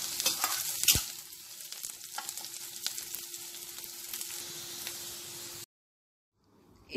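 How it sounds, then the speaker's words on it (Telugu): Thinly sliced garlic frying in a pan for an egg snack crackles and sizzles with a few sharp spatula clicks, then cuts to near silence near the end. "1 minute ఫ్రై చేసుకుందాము."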